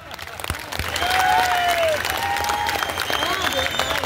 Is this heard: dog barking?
no